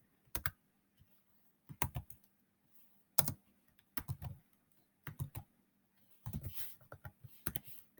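Fingers typing on a computer keyboard, close and quiet: short clusters of key clicks separated by brief pauses, with a faint hum underneath.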